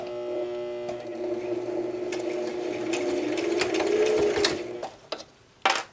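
A sewing machine stitches ric rac trim onto a cross-stitch pillow, its steady mechanical whir and hum running close and loud for about five seconds before slowing and stopping, followed by a brief clack.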